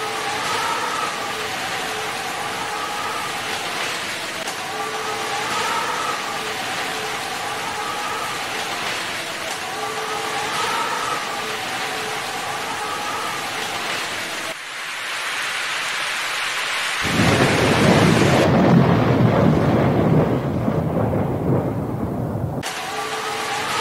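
A cartoon storm with steady rain hissing throughout, joined later by a heavy, louder rush of rain and rumbling that swells and then cuts off sharply.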